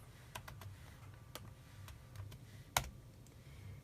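Computer keyboard typing in bursts of scattered, light key clicks with one sharper keystroke near the end, over a steady low background hum during an iPad SSH ramdisk bypass procedure.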